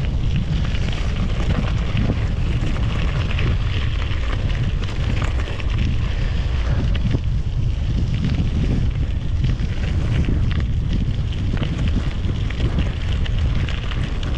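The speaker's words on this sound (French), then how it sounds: "Ah, il y a du vent." Steady, loud wind buffets the microphone with a constant low roar during a mountain bike ride across the Passage du Gois tidal causeway on Noirmoutier island, and no voices are heard.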